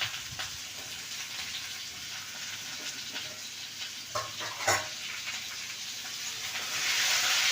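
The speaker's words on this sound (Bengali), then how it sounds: "এই সবজিগুলো একটু 1 মিনিট মতো নাড়াচাড়া করে নেব।" Sweet potato and taro pieces sizzle in hot oil in a pan while being stirred, a steady crackling hiss broken by a few scraping knocks of the spatula, rising louder toward the end.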